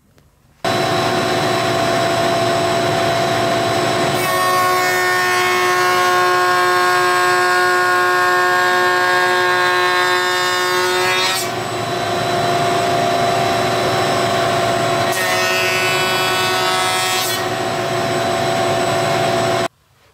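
A lock mitre router bit makes a second cutting pass along a straight-edged workpiece, a loud steady whine with strong tonal harmonics that holds for most of the clip, with a second shorter burst near the end and no talk.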